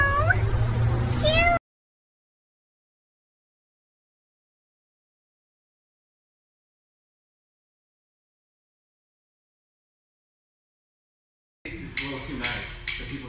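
A cat meows in several rising and falling calls within the first second and a half, followed by a long silence and then a short burst of scuffling noise at the end.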